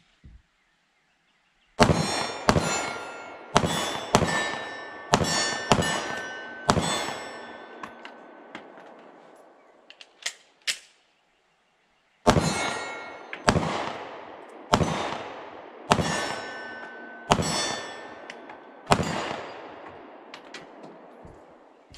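Mossberg MC1sc 9mm pistol fired outdoors from a deck at about 15 yards, two strings of sharp evenly spaced shots with ringing tails, a pause between the volleys, loud and close with no talking.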